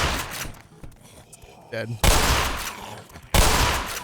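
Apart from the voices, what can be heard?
shotgun blasts in the video game Black Mesa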